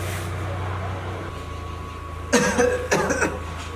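A person coughs from chest congestion, two or three harsh, close bursts arriving late in the clip over a low steady background hum.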